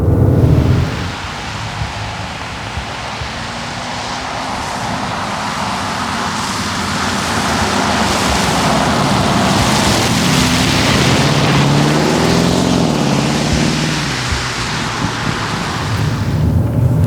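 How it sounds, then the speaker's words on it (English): A 550 hp Porsche Cayenne Turbo Coupé accelerates hard, its engine a loud, steady roar that swells and climbs in pitch for the whole stretch, with broad road and wind noise and no talking. "there's no lag or no delay whatsoever from the acceleration"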